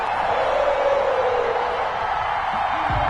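Steady roar of a sold-out Cincinnati stadium crowd in an EA Sports NFL video game as the Bengals take the field against the Titans, loud and continuous with a broad wash of cheering throughout.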